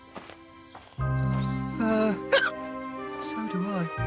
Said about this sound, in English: I hope your hiccups are gone by the morning.